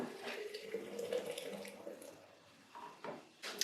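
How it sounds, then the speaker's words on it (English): Homemade cashew milk is poured from a container back into a jar, a steady liquid splashing and trickling that fades, followed by a few light clinks and knocks. "So I'm gonna pour that back into the jar."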